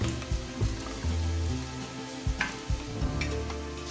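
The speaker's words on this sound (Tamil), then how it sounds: "இப்போ நல்லா வந்து வதங்கிட்டுருக்கு" Masala for shark biryani sautés in oil, a close, quiet sizzle with intermittent stirring scrapes and soft clinks of a spoon against the pan.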